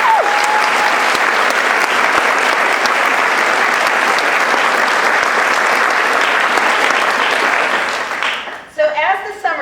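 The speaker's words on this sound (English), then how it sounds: "Let's give those folks a round of applause." Sustained, loud applause from a large audience at an honors commendation ceremony fills most of the stretch, dense and even, then fades away near the end as a voice begins.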